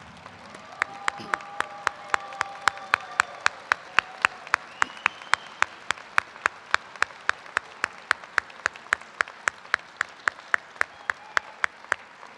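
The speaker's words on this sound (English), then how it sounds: "Let's give them a round of applause." Sparse, evenly spaced claps ring out at a university commencement ceremony as graduates' family and friends are honored, single sharp hand claps repeating roughly every third of a second over a quiet hall murmur for about eleven seconds.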